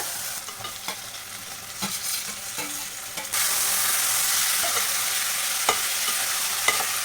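Mutton pieces and tomato frying in a pan, a continuous sizzle with intermittent stirring scrapes that jumps noticeably louder partway through as more goes in.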